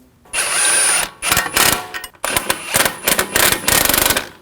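Hub nuts on a front wheel bearing and hub assembly of a 2001-2009 Volvo S60 being run down with a power tool, loud close bursts of whirring and rattling impact hammering, starting and stopping several times with brief pauses.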